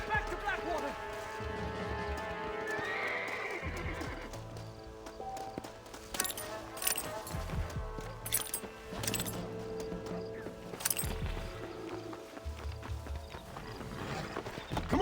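In the video game Red Dead Redemption, horse hooves gallop in a steady clip-clop rhythm, mixed with game sounds and voices speaking over the hoofbeats.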